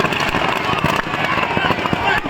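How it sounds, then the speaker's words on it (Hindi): Fireworks crackle and pop at a Ravana effigy burning during a Dussehra celebration in Sujangarh, a dense stream of bangs mixed with a lively outdoor crowd and voices close by. "हालांकि शुरुआत में आतिशबाजी लगा दी गई है"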